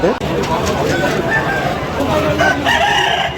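Roosters crowing and clucking amid a busy, noisy Sunday rooster market crowd in Machilipatnam, Andhra Pradesh, with people talking throughout.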